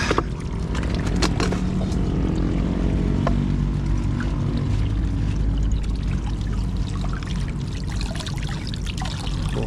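Water is poured continuously over pechay leaves on a rooftop garden to rinse off dirt, a steady close splashing and trickling that lasts throughout.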